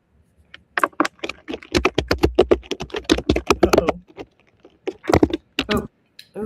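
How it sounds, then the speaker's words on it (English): Fingers tap rapidly on a computer keyboard in close, crisp bursts of clicks, pausing briefly around the middle before a second quicker flurry of keystrokes. "Oh, someone's typing."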